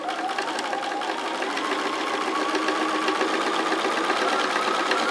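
Close and steady, a sewing machine runs continuously while top stitching, a fast, even mechanical whir with a faint rhythmic knock throughout.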